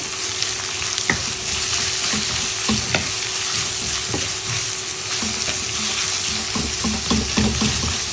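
Finely chopped onions fry in oil in a pan while being stirred, a loud continuous sizzle broken by repeated spatula scrapes and knocks throughout, with no talking.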